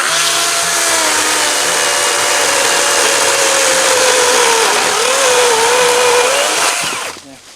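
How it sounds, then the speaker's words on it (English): DeWalt FlexVolt battery chainsaw cutting steadily through hardwood, its loud, high-pitched motor whine sustained for about seven seconds before quickly winding down at the end. "You can see what I mean about the DeWalt chainsaw. It eats right through it. This is hard wood."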